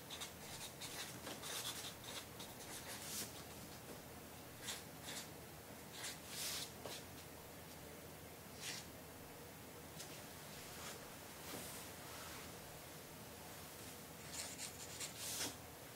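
Pencil scratching and rubbing on paper, a faint dry rustle of continuous writing strokes with a few louder scribbles, close and quiet with no talk.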